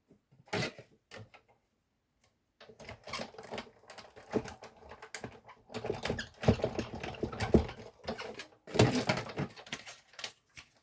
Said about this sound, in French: je vais passer dans ma machine pour découper mon cercle